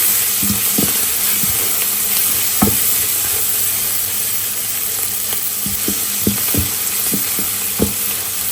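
Noodles frying with beef and spices in a pan, a steady loud sizzle with intermittent scraping and clacking stir strokes at irregular intervals, close up with no talking.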